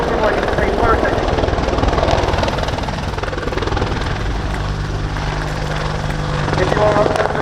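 An Army Air Corps AH-64D Apache helicopter performing a flying display at an air show, its rotor thumping loud and continuous throughout, with a deep drone and pulsing blade slap.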